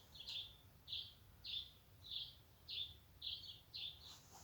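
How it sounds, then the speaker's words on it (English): Birds chirp outside, a series of about eight short, evenly spaced high calls roughly every half second, faint and distant over quiet room noise. "there's some beautiful birds outside and they're like chirping away"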